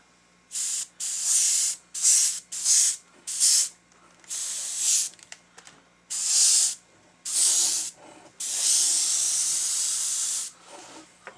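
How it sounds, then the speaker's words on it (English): An aerosol spray can hisses in a series of short bursts while painting a bass taxidermy mount, with one longer spray near the end and quiet pauses between. "we're going to spray a little bit on the tail and then the top"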